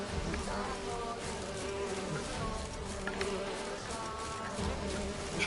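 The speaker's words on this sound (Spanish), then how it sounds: "¿Y eso, tío? ¿Y esas moscas?" Flies buzzing in The Witcher 3 video game on PS5, a dense, steady swarm drone that holds throughout at moderate level, with faint game ambience underneath.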